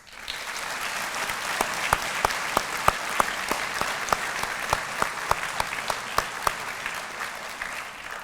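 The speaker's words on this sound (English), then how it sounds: "Please join me in a round of applause for this outstanding class and all those who supported them along the way." Audience at a police academy graduation ceremony clapping steadily for the graduating class, a dense even wash of many hands with a few louder, sharper claps standing out close by.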